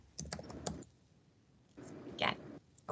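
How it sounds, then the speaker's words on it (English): Quiet clicky keystrokes on a computer keyboard come in two brief bursts with a pause between them, faint and close, without talk. "who's typing?"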